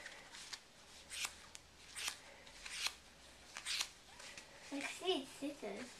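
Quick crisp snips of scissors cutting a girl's long hair into a short bob repeat through the clip, with a voice chattering briefly near the end over a quiet room.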